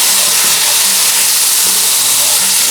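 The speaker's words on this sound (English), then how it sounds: "So the first thing I'm going to add is my can of fire roasted diced tomatoes." Canned fire roasted diced tomatoes hit a hot Dutch oven while cooking paella, giving a steady, loud sizzling hiss that holds evenly throughout with no voices.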